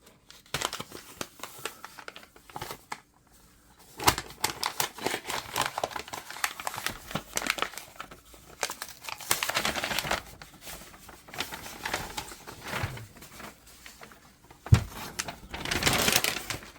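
Plastic watch packaging for a Formex Reef being cut open and unwrapped, with bursts of crinkling, tearing and snipping that come and go, louder rustling near the end and no talk.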